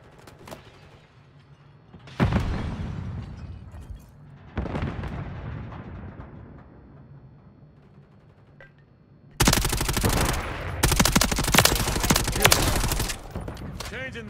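Gunfire in the video game Warzone starts with a few scattered heavy bursts that ring out and decay. It then turns into a sustained, loud stretch of rapid automatic fire near the end, with speech faintly present.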